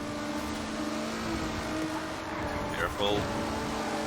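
A Mitsubishi Eclipse race car in Forza Horizon accelerates with a steady engine whine, shifting pitch as it gains speed, while a commentator talks energetically over the racing.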